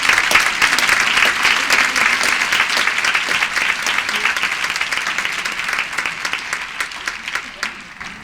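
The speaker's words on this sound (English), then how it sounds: "how about a nice round of applause for all of them?" An audience at a McCall Middle School evening program gives a loud round of applause, dense clapping that starts strong and slowly thins and fades toward the end.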